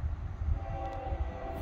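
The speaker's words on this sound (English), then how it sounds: "This may be my last FEC train in Florida," A Florida East Coast Railway train passes on a sunny day in Florida, giving a low, rumbling roll with sustained horn tones held above it.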